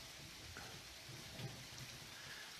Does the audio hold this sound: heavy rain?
yes